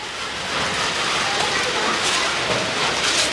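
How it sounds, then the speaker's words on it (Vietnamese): Rain falling over a village neighborhood, a soft continuous hiss that holds steady in the background throughout, with no clear speech heard over it. "Giờ này trời cũng mưa luôn rồi"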